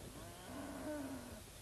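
Cattle mooing, one long low moo that swells in the middle and then fades, heard close and alone.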